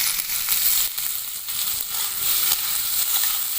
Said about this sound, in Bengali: তেলের মধ্যে দিয়ে দেব পেঁয়াজ কুচি, টমেটো কুচি, আদা রসুন